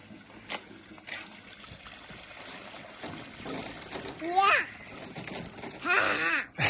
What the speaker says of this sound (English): Can you flush the toilet again?